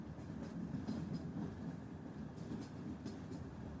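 A train rolls along the rails as a steady low rumble with faint clatter, soft and continuous throughout.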